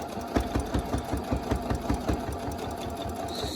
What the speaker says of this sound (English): You're gonna sew all the way down.